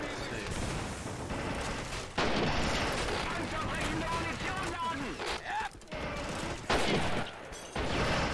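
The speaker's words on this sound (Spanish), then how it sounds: "Mortero aquí, o ametralladora, no sé qué." Gunfire and artillery blasts roar almost continuously through a Men of War battle, with booming impacts and rattling bursts layered together, loud and dense, while someone talks over the action.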